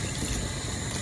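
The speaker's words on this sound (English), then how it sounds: "We'll add a little bit of water to our soup." Water is poured into a pot of grasscutter light soup cooked village style, a steady liquid rush filling the short moment close up without pause.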